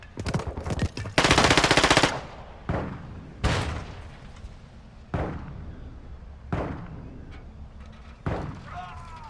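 Gunfire in the video game DMZ: a long sustained burst of rapid shots followed by several loud single pistol-like reports spaced a second or two apart, with a player talking over the shooting.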